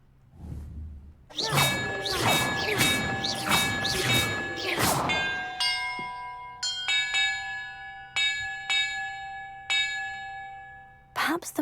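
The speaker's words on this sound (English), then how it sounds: "Perhaps the map contains clues about the order I'm supposed to ring the bells in." Bells clang rapidly in a puzzle in the game Hogwarts Legacy, a fast loud run of strikes with whooshing overtones, then slower single dings spaced out, each ringing on with long sustained tones.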